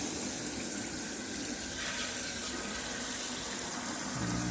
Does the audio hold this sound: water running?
yes